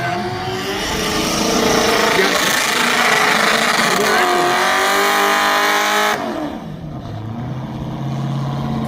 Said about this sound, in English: Dragging the bumper around.